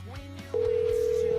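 A telephone rings on a radio show's call-in phone system, a single steady electronic tone starting abruptly partway through and holding loud and unbroken, after some faint background noise.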